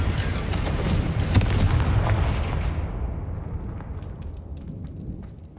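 A Confringo fire spell bursts in the game Hogwarts Legacy, a loud, booming blast with crackling impacts that rumbles on and slowly fades over several seconds into a faint, sparse crackle.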